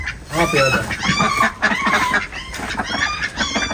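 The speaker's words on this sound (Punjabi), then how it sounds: "ਬੱਤਖਾਂ ਨੂੰ ਮਾਰਦਾ ਮੁਰਗਾ" Loud, close poultry calls repeat in harsh bursts, a rooster's cries as it attacks ducks mixed with clucking and honking from the ducks, with no pause between outbursts.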